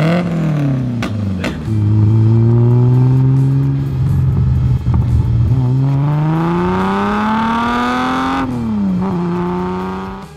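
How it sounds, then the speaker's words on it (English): A car with a titanium exhaust revs loudly with a deep, throaty note, rising and falling in pitch as the engine is blipped several times, close and alone. "a desirable low deep exhaust note"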